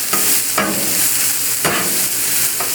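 Olive oil and diced yellow onion hitting a hot Blackstone griddle, a loud, close, hissing sizzle with bursts of sharper crackle as the onion is stirred and turned.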